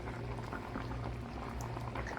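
Broth for mussel and shrimp sinigang boils steadily in a pot, a close, continuous bubbling simmer with no talk over it.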